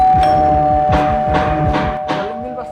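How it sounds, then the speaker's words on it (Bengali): An electronic doorbell rings in a home, a repeating melodic chime of several descending tones over a faint steady hum. "calling bell বাজতেছে"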